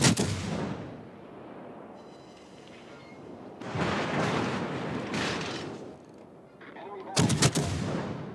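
Heavy naval gunfire from a warship combat game, with booming salvos and crackling bursts that rise and fall, ending in a sharp cluster of loud blasts.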